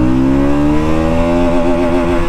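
A Bajaj Pulsar NS 200 motorcycle revving hard in first gear, its engine note climbing steadily in pitch, loud and close, with no talk.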